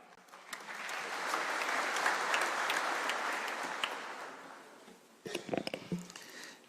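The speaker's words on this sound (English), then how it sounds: "let's welcome him with a clap" A conference audience gives sustained applause welcoming the UNESCO World Heritage Centre director, building quickly, holding for several seconds, then fading before a voice speaks over a brief burst of noise near the end.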